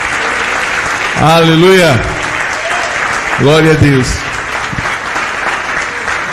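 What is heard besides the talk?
congregation applause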